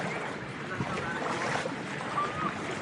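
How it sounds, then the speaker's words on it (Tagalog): Steady wash of sea waves and wind off Boracay during island hopping by boat, a continuous rushing noise outdoors with faint engine-like hum beneath. "Medyo maalon siya pero hindi naman malakas."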